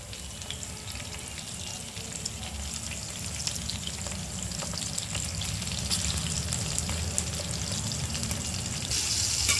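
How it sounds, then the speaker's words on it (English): Steady crackling and sizzling of chilies frying in hot oil, close and continuous, growing slightly louder over time. "Now I am frying these chilies as well."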